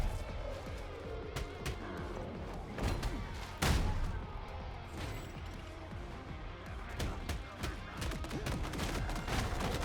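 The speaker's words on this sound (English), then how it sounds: "Shotgun." Dense shotgun fire and chaotic combat effects from a bullet-heavy roguelite video game, a steady wall of blasts with one sharp, louder shot near the middle, while people talk faintly underneath.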